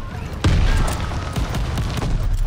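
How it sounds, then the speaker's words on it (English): A sticky bomb explodes in a Call of Duty match with a sudden loud, close boom followed by a rumbling tail, as further thuds and gunfire-like bursts crackle through the busy game mix. "Incoming sticky bomb"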